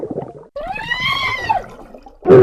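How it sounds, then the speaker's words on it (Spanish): A wailing, rising-and-falling creature cry from Red Dead Redemption 2's unused shark death sound, a harmonic moan lasting over a second, followed by a brief harsh splash-like burst. "todavía están los sonidos de la muerte por tiburón"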